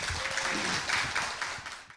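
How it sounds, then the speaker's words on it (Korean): An audience at a poetry talk event claps together, a dense, even patter of many hands filling the short span and cutting off abruptly at the end. "박수로 함께 하시기 바랍니다."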